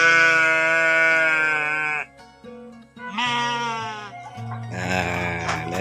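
Several sheep bleat loudly at dusk in a village in Cikalong Kulon, Cianjur, with long wavering cries close by, separated by short pauses and a faint murmur of background sound.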